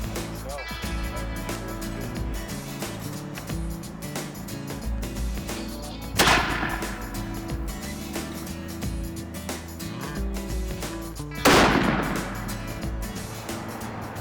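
Two sharp rifle shots ring out at hunting-camp target practice during an elk hunt, spaced several seconds apart, each a loud crack over a steady music bed.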